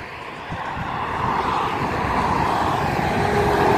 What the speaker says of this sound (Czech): Hej, Vojte, jde růžový kamion ze zhora.